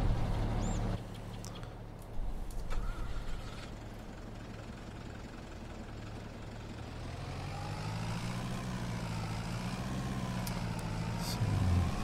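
A tractor in Farming Simulator 22 drives up beside a combine harvester, its engine a steady low drone that rises slightly as it moves, with a couple of brief mechanical clunks and a continuous heavy hum.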